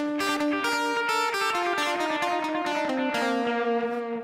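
Electric guitar notes played through a Headrush pedalboard ring out one after another, each trailing into delayed echoes and a wash of reverb that keeps the sound full and sustained.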